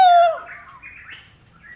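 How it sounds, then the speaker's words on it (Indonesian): A straw-headed bulbul, a long-tailed cucak rowo, gives a short clear whistled note that slides downward, then a fainter warble, with another note starting at the end. "eksekusi yang kedua ini adalah cucak rawa"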